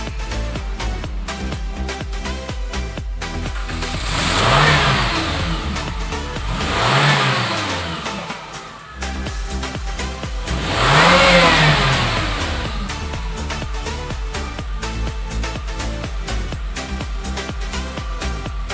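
A 2007 Suzuki Grand Vitara with an automatic transmission idles steadily and revs up three times, each rev rising and falling in pitch, loud and close.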